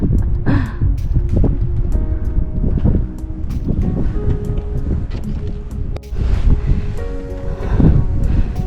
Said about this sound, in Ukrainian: Сьогодні вітер дуже сильний.